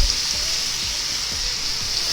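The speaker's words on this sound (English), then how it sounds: "Just gonna continue to sear it up on both sides." Bone-in cowboy ribeye steak searing on a grill, giving a steady close hiss and crackle of sizzling fat with faint irregular pops and no voices.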